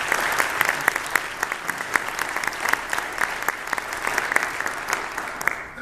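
An audience at a county State of the County address gives a sustained round of applause, a dense crowd of clapping hands with sharper individual claps standing out throughout.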